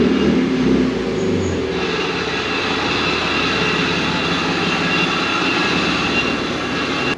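A cheap drift car's engine idles at a steady, even drone, close and fairly loud, with no revving or pauses and no talk over it.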